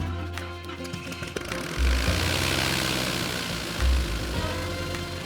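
Propeller aircraft engines drone and buzz nearby at Sherburn in Elmet airfield, with a couple of deeper swells in the engine noise, and no one speaking.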